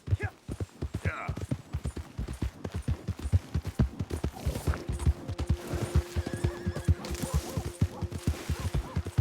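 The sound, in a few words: horse neighing and hooves in video game Red Dead Redemption 2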